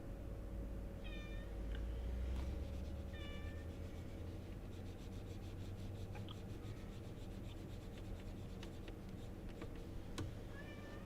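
House cat meowing indoors, several short rising meows spaced apart over a steady low background hum, with faint scratchy rubbing sounds between calls.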